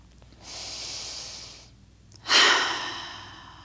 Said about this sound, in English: Just take a deep breath in